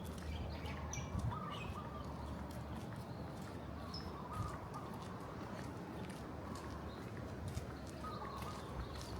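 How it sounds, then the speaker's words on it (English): Faint wild bird chirps and tweets come from a distance in Kona, Hawaii, over a steady outdoor background hum, scattered and irregular with no talking. "there's a lot of bird wildlife going on around here, and it sounds really cool"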